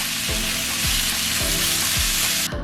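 Spinach leaves frying in a pan, a dense continuous sizzle with a regular rhythmic scraping as they are stirred, close and steady without any voices.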